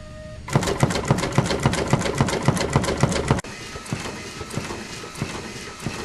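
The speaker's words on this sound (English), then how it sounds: "Here's a good example of how quickly the system can tamp." A Foxjet Spec E label applicator cylinder tamping: rapid, regular mechanical tapping, fast clacking strokes at a steady rhythm, then slower, softer taps after a brief cut.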